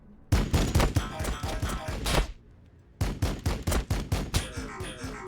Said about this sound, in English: So we got the burst cannon variant here.